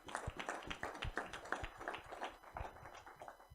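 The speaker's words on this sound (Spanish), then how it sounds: "Denle un fuerte aplauso al Señor" Scattered hand clapping at a church service, individual claps distinct and uneven in rhythm, moderately close and fairly quiet, with no speech over it.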